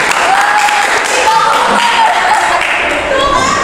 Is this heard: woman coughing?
no